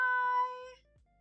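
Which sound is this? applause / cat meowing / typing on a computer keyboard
cat meowing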